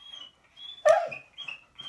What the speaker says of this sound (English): That is my dog, Charlie